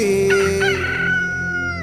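A rooster crows in a school Pongal festival song, one long drawn-out cock-a-doodle-doo rising then sustained, loud and clear over the steady musical accompaniment.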